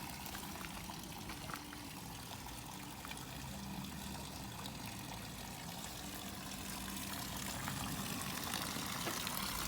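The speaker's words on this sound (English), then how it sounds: "I'm just filling up the water." Water pours steadily into a tank, a continuous faint rushing trickle that runs without a break and with no talk.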